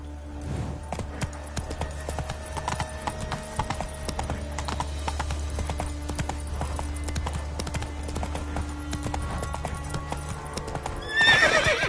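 Horse galloping in the video game The Witcher, a rapid continuous clip-clop of hooves with a whinny near the end, rising louder at the close.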